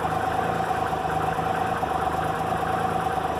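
Japanese motorcycle engine idling steadily just after starting, a close, even mechanical hum with a fast regular pulse and no talking.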